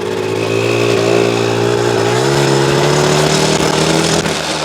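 A Honda Motocompo folding scooter's small engine buzzes loud and close, holding a steady drone as it rides past, with the pitch easing down midway then settling into a constant hum.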